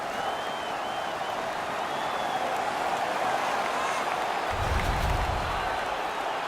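Hockey crowd in an arena cheering for the home team, a dense steady roar of applause and voices that holds throughout, with a low rumble swelling briefly near the end.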